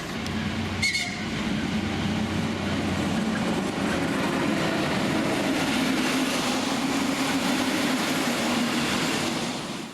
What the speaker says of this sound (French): Nous devons attendre l'arrivée de ce train en retard et en provenance de Budapest pour pouvoir partir